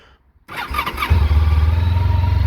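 After a short quiet pause, a Honda ST1300 Pan-European touring motorcycle engine cranks and catches, then settles into a loud, steady idle close by.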